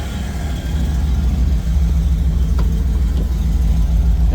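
A 2002 Ford SVT Lightning pickup idles close by with its AC compressor running, giving a steady, loud low engine hum with a constant mechanical whir and no change in pace.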